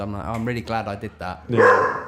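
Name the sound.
dog barking during podcast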